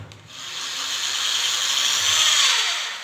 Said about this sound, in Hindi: तो ये ड्रिल है जो अच्छी तरह से वर्क कर रही है।